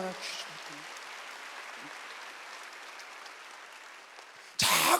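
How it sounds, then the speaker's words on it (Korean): A church congregation at a Wednesday worship service applauds together, a steady broad wash of clapping that holds for several seconds, then ends in a sudden louder burst. "박수를 하세요"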